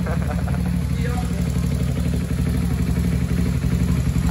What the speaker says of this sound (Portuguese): Aí já respondeu a moto, já tem marcha lenta, já acelera.